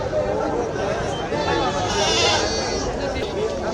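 Goats bleating at a crowded goat market in Jalna, with repeated nasal cries rising over a dense murmur of buyers and sellers talking nearby, continuous and fairly loud throughout.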